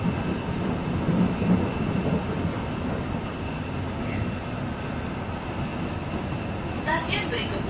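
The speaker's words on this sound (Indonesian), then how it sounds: "Jadi yang kita naikin ini adalah KRL feeder." A KRL commuter feeder train heads toward Manggarai station, giving a steady, continuous rumble and rush of the carriage heard from inside, with faint onboard sounds near the end.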